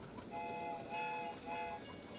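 An electric toy train in the video game Fallout 76 runs in a games room, giving off a steady mechanical hum with repeated tooting whistle tones in short pulses, faint and alone.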